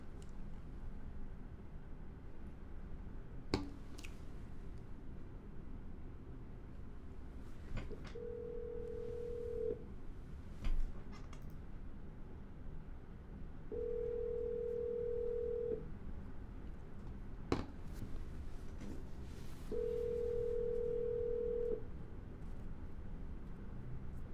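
Three evenly spaced ringback tones sound on a phone line during a cold call to a seller, each lasting about two seconds, over a low steady hum broken by occasional faint clicks.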